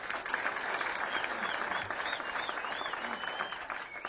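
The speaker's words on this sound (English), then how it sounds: "You can clap for him." Audience clapping for a guest at a gathering, a steady patter of many hands at moderate level with faint high tones scattered over it.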